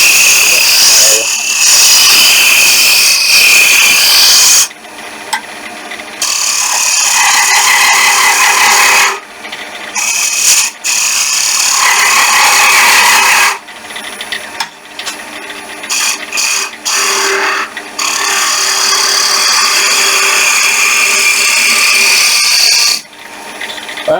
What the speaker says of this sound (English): I'll put my spindle bit gouge and we're going to try rough and gouge.